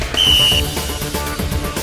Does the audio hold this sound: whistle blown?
yes